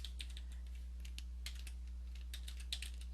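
Light, rapid keystrokes on a computer keyboard come in short irregular bursts, quiet and close, over a low steady electrical hum from a screen recording, with no voices.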